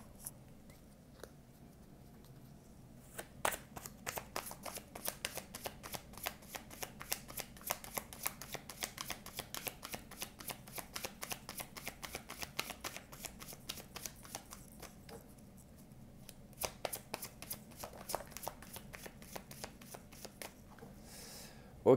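Tarot cards are shuffled close up in a quiet room, a long run of rapid papery riffling flicks that pauses briefly a few times before resuming.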